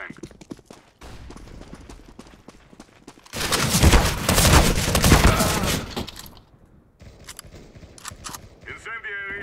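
A flashbang detonates in a tactical shooter game, a loud, dense blast of noise lasting a few seconds, framed by sharp clicks and scattered gunfire, with voices talking in between.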